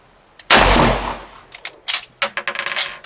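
A Lee Enfield Mk1 SMLE .303 rifle fires once outdoors at a range: a single loud, sharp report with a long ringing decay, then a rapid string of crisp mechanical clicks and clacks.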